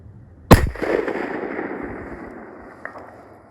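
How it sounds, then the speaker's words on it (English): A single sharp rifle shot cracks close by, fired at a target 600 yards away, then a long rolling echo decays over several seconds, and a faint distant impact or report follows near the end; no one talks. "these are his first two shots at 600 yards"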